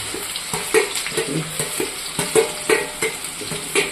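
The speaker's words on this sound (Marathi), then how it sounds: "बारीक कांदा तुम्ही चिरून घेतलेला असतो, तो कांदा चिरून आपण याच्यामध्ये परतून घ्यायचा आहे।" Finely chopped onion sautéing in a pan for stuffed brinjal curry, with a steady sizzle broken by regular scraping stirs of a spoon, close and fairly loud throughout.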